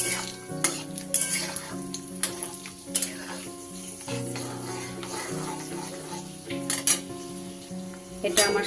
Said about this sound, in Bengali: এবার আমি এই তেলের মধ্যে দিয়ে দেব 25 গ্রাম মতো ভাঙা কাজু। এটাকে আমি একটু ফ্রাই করে নেব।